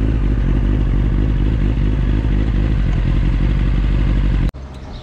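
A Kawasaki Ninja ZX9R exhaust, fitted with a quieter stock pipe, rumbles loud and close with a steady throbbing beat, then cuts off sharply near the end, leaving quieter background noise.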